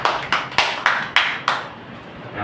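A church audience during a Sunday worship service claps hands in a rhythmic sequence, six crisp loud claps at roughly even intervals, then fading into quiet room sound.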